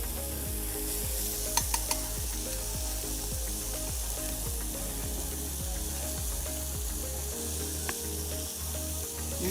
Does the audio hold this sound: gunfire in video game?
no